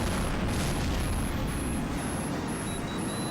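A missile explosion in the Tom Clancy's HAWX jet combat game, heard as a continuous loud roar and rumble of jet and blast noise, with a faint repeating high warning beep over it.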